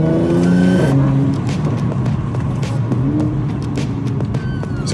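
A Mercedes-AMG C43 accelerates hard, its engine note climbing through a quick pull before dropping with an upshift and rising again, loud and close with a rough exhaust edge.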